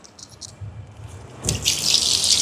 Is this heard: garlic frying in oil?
no